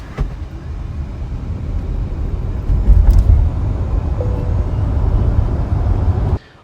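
A Tata Harrier EV AWD electric SUV accelerates hard in boost mode, a steady rising road and motor roar from inside the cabin that swells mid-way and cuts off abruptly at the end.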